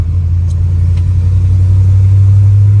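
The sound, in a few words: 1963 pickup truck driving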